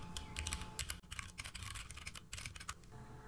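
A computer keyboard clatters as code is typed into an editor, quiet, uneven bursts of crisp keystrokes with brief pauses, close by and with no voices.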